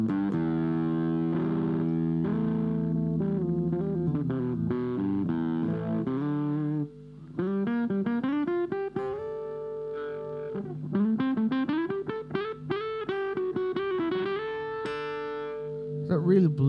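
Gibson Les Paul Junior played through distortion with the tone knob rolled off fully, giving a dark, bluesy tone: sliding lead lines and bends, sustained notes, then quicker phrases, close and steady for over fifteen seconds.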